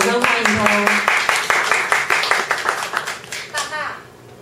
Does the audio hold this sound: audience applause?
yes